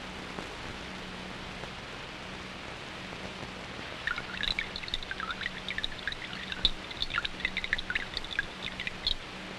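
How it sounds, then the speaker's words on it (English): Water is poured into a dish during a 1965 science experiment on clouds, a faint trickling splash of drops rising midway over a low steady hum. "Now we'll put 40 cubic centimeters of water in the dish."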